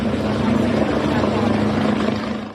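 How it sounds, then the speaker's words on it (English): Helicopter hovering over a flooded area during deadly floods in Rio Grande do Sul, southern Brazil, a steady droning rotor hum that stays constant and fairly close, filling the whole stretch without a break. "Here, a helicopter hovers,"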